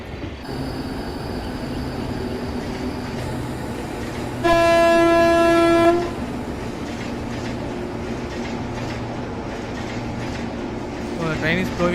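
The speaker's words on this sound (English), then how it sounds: "So the train is going." A simulated Indian express train, the Kashi Vishwanath Express on an Agra to Kolkata run, rumbles steadily along the tracks and sounds one loud, sustained horn blast midway through.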